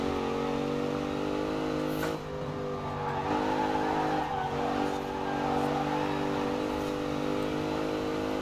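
A 2014 Jeep Grand Cherokee driven off-road in Forza Horizon 4, its engine holding a steady, loud droning hum with slight rises and dips in pitch, heard alone without talk.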